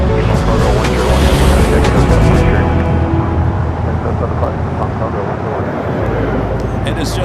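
A loud, continuous jet airliner roar as a Swiss flight from Zurich arrives on the south side of Los Angeles LAX on a sunny afternoon, steady engine noise swelling then easing, with a voice talking over it.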